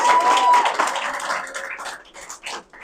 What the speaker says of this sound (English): Can we give Madam Chair a round of applause,